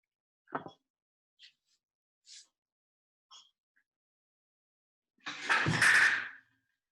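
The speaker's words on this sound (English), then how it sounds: "that's just me knocking over a Dharma yoga wheel" A Dharma yoga wheel knocked over in a quiet room: a few small clatters and taps, then a loud, broad tumbling crash near the end, close by and alone.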